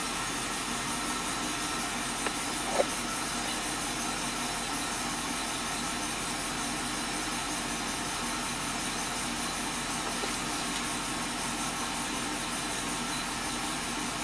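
A GM truck engine idles steadily with no throttle input, a constant hiss-like mechanical drone with no talking over it and one small click partway through.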